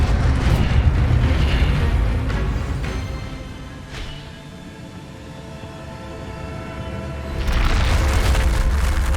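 Incendio fire spell cast in the Hogwarts Legacy game: a loud whooshing, rumbling burst that fades into a low hum, followed by another roaring surge toward the end, with no talk.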